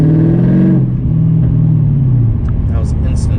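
A Mercedes CLK500 W209 fitted with a sprint booster revs its engine, then the rumbling tone sinks steadily as the revs fall away, loud and close, with some talking over it.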